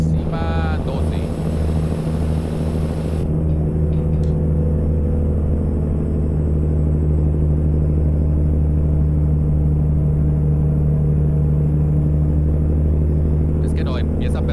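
A Kenworth T600 hauling 30 tons up a steep climb in tenth gear in American Truck Simulator gives a steady, loud low engine drone with layered harmonics that bogs as the revs fall. It runs unbroken throughout with no clear talk over it.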